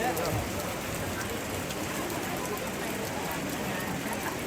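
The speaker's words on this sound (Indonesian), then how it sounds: "Hujan deras lagi nih." Heavy rain falls steadily at a traditional Toraja tongkonan house during a funeral ceremony, a dense, unbroken hiss that holds at the same level throughout.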